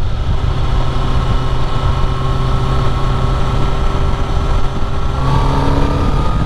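A 2014 Honda CBR1000RR SP sport motorcycle engine pulls hard under acceleration on a road ride, a loud, steady high-revving drone with rising tones near the end, mixed with wind roar.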